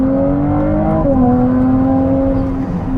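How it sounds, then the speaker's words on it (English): Ferrari 296 in qualifying mode, its twin-turbo V6 droning steadily near and loud, pitch rising slightly then easing back, with a continuous whirring turbo spool layered over the engine note. "You can hear those twin turbos spin up as well."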